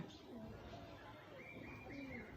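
Pigeons cooing softly at a distance, a few low repeated coos over faint outdoor background hiss, no talk.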